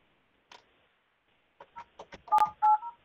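A desk phone on a RingCentral and Alcatel-Lucent Enterprise system dials out: one short tone, a pause, then a quick run of several DTMF keypad beeps, close and fairly quiet with no talking.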